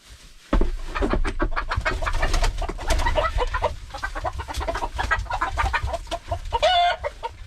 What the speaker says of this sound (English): It's one of my hens.